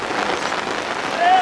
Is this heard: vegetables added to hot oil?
no